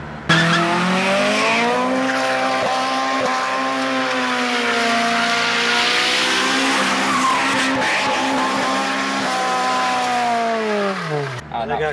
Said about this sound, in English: I got calls of cars squealing tires.